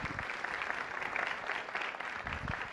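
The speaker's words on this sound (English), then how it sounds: "Let's give Dr. Zanno one more round of applause" A live audience claps for a paleontologist at a dinosaur discovery event, the applause fairly faint and distant but continuous throughout.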